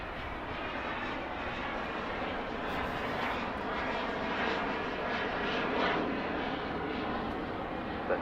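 A Boeing 787 Dreamliner landing at Los Angeles International Airport gives a steady, moderately distant jet engine roar that swells slightly and fills the whole stretch, with no voices.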